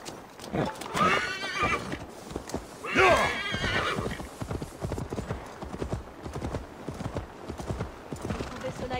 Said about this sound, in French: Allons rendre son cheval à Magni.